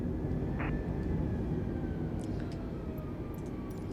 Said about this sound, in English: We're going to go ahead and do a roll and takeoff.